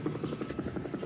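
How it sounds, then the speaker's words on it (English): Helicopter passing overhead above a camp, its rotor making a steady rhythmic low thudding pulse, fairly faint and distant, with a dull background hum. "there's been a helicopter going overhead and machine gun fire here in the camp right next to us"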